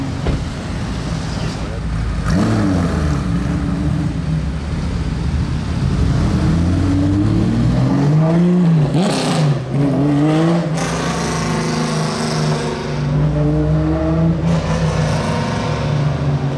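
A Porsche race car with its headlights on roars in as it arrives, its engine loud and rising and falling in pitch over a steady background drone, with voices talking over it.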